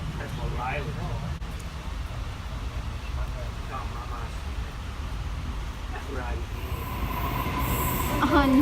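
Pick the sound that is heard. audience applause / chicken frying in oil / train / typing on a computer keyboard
train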